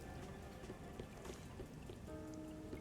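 Steady rain falls in the Rain Code video game, a soft, even patter of drops with faint scattered taps, quiet and continuous with no voices.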